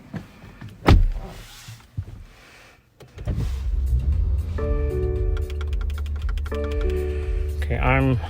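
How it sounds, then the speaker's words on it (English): Air suspension on a 2020 BMW X5 xDrive40i lowers with a steady electric pump whine and a rising tonal hum, following a few clicks and thumps from inside the car, with someone talking over it. "Just push it down and the car is lowering right now."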